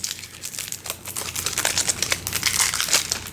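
Close, busy crinkling of plastic shrink wrap being peeled and scrunched off a Castles of Mad King Ludwig board game box, a dense crackling rustle with no talking.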